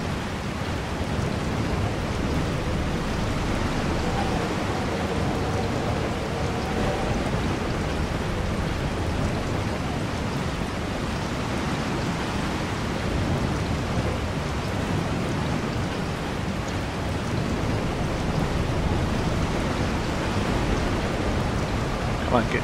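Steady, heavy rain from the video game Resident Evil 4, a dense continuous wash of noise with low rumbling underneath, filling the whole stretch at an even loudness.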